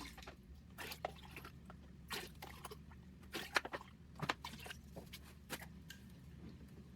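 Water is poured into an acrylic paint pour mix of glue, paint and Liquitex medium, heard as faint, quiet drips and small liquid splashes scattered irregularly over a low background.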